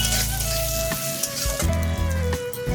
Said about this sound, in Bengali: হালকা নেড়ে চেড়ে দিয়ে দিচ্ছি ক্যাপসিকাম। এগুলো একই সাইজ করে নিয়েছি, নিয়ে একটু নাড়াচাড়া করে ভেজে নেব।